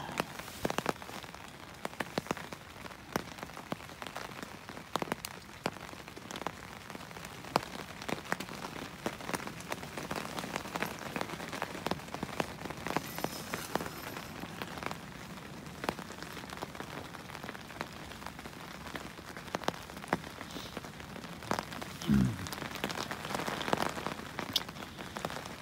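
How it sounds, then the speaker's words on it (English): Rain pattering steadily on a hammock tarp during Storm Freya, a close, soft, continuous patter of drops with occasional louder taps, and no talking. "rain carries on."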